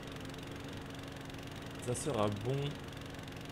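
A lawn mower engine in Farming Simulator 17 drones steadily with a constant buzzing hum, while someone speaks briefly over it midway.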